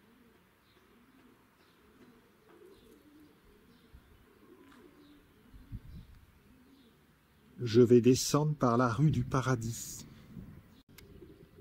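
Pigeons or doves nesting in the old town gates of Mennetou-sur-Cher give a short burst of cooing and fluttering calls, fairly close, after a stretch of quiet talking outdoors.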